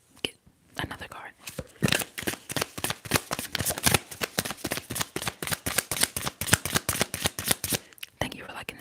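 Tarot cards shuffled by hand at close range, a long run of quick rhythmic riffling snaps, soft and intimate, with quiet whispered speech around them.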